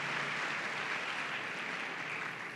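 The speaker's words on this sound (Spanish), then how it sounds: "Reciban caluroso aplauso de este pueblo maravilloso" A church congregation in San José, Costa Rica applauds, a soft, distant, steady patter of many hands clapping that fades slightly toward the end.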